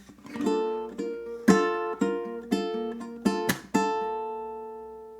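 A ukulele plays the next chord section of a song, several bright strums and plucked notes ringing in turn before a final chord fades out, solo and close.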